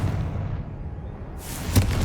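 A Confringo fire spell from the Hogwarts Legacy video game bursts with a roaring, crackling blast over a steady rumbling bed, followed by a sharp thump moments later.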